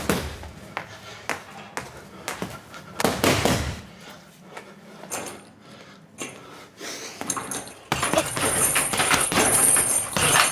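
Punches landing on a boxing bag during an educational boxing session, irregular sharp thuds, some single and some in quick pairs, ending in a louder, noisier stretch.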